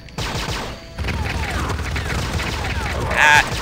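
Video game gunfire in Turok Evolution during a firefight, rapid bursts of shots and booms packed close together at steady loudness, with a sharper burst near the end; a voice talks over the action.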